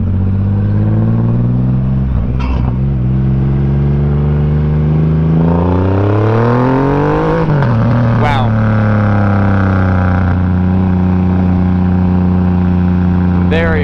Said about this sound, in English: Let's go ride some big motorcycle.